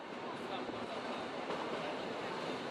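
A big green train on the Flåm Railway rolls steadily along its rails past a village, giving a continuous, even rumble and hiss with no distinct clacks, moderately close and without voices.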